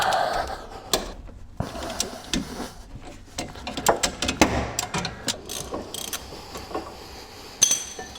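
A breaker bar works loose the 15 mm brake caliper bracket bolts on a car with a sticky caliper. Close, irregular ratcheting clicks and metallic clinks sound over a quiet background.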